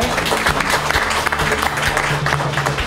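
An audience applauds at the founding ceremony and general meeting of a Pyeongtaek disability welfare sponsors' board: loud, dense clapping from a crowded hall, held steady throughout with no talking.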